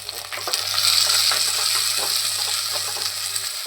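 Onions, tomatoes, garlic and green chillies sautéing in a pan for a Kerala-style seer fish curry, producing a loud, steady frying sizzle with light stirring scrapes throughout.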